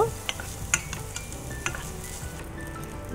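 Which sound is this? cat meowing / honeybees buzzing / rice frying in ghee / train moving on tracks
rice frying in ghee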